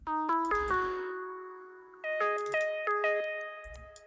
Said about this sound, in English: more of a sort of typical distorted or saturated E-piano sound